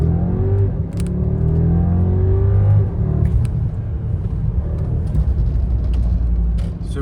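A long car accelerates from a stop to 45 mph on wet roads, its engine rumbling and rising in a steady close whir inside the cabin, with a few light bumps and no talk.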